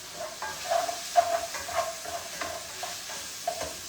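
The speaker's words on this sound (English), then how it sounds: "Let me get back here and stir this meat up again." Ground meat for a smash burger pasta frying in a pan while being stirred: a soft steady sizzle with a run of quick scraping strokes, near and fairly quiet.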